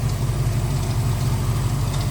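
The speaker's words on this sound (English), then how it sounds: "Choke's off, high idle is done, down on low idle. Purring right along." Low, steady idle from the 302 V8 in a 1951 Studebaker Champion street rod with MSD ignition, an Edelbrock carburetor and headers, a close, even, rumbling purr with no talk over it.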